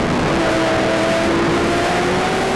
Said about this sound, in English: He's feathering that throttle real nice in the middle of the corner, staying nice and smooth, keeping the momentum up.